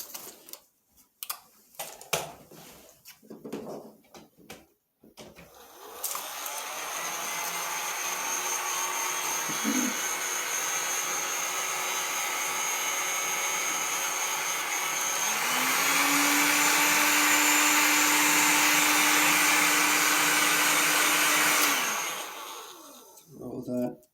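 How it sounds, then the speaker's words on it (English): A heat gun blows steadily while vinyl wrap is worked around an edge, giving a loud, continuous airy roar that rises in pitch partway through and then cuts off. Handling noises come before it starts. "So we're going to use our heat gun again for this."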